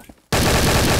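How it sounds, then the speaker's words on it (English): A Bullet Bill launcher fires in Garry's Mod, a sudden loud blast after a brief quiet moment, followed by a sustained roaring rush of sound that stays steady without any voices. "We have this bullet bill launcher."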